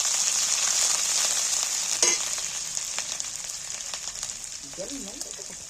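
Ginger paste sizzles loudly in hot oil left from earlier frying, a steady bright hiss with a few stirring scrapes, fading slightly toward the end while a voice speaks faintly.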